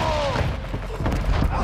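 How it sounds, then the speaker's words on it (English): Mortar strike explosions in Call of Duty: Modern Warfare 2 on a battlefield, heard as a steady, loud, rumbling roar of blasts with deep booms and scattered crackles. "Mortar strike inbound now"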